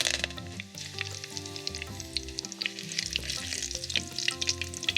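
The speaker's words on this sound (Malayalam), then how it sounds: "അര ടീസ്പൂൺ ഉലുവയും 2 തണ്ട് കറിവേപ്പിലയും കൂടെ ഇട്ട് കൊടുക്കുകയാണ്." Fenugreek seeds and curry leaves frying in hot oil for a Kerala fish curry, a continuous crackling sizzle with scattered pops and stirring, close and steady throughout with no talk.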